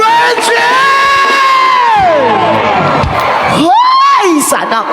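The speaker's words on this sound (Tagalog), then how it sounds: "People of Patarasa, isang hiyawan mga brethren!" Concert crowd at a live band show in Bataraza, Palawan, cheering, whooping and yelling loudly and continuously, with rising and falling shouted cries near and far.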